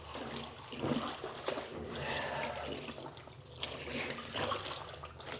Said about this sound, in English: the most important thing to actually do is to agitate the clothes with your hands, like so